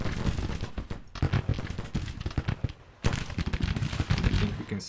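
Troops fire in the Civil War strategy game Grand Tactician, a dense, crackling barrage of gunshots and volleys in rapid bursts. It drops briefly to quieter scattered shots, then surges back to heavy continuous fire.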